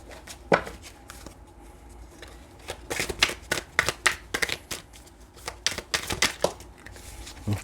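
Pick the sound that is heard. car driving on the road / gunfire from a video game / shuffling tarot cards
shuffling tarot cards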